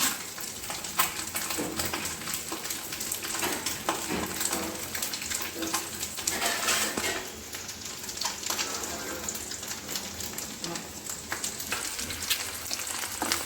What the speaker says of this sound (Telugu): ఇట్లా బాగా వేపుకోవాలండి